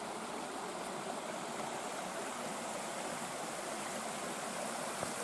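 A stream flows through a stone channel beneath a bridge with cobbled stonework, a steady broadband rush of running water that stays constant and fairly faint throughout, with no voices.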